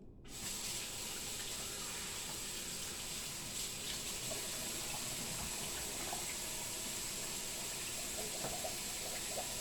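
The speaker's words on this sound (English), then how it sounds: "Let me wash my hands." Water gushes steadily from a running tap as hands are washed beneath it, a close, continuous hiss and splash with faint shifts in the flow.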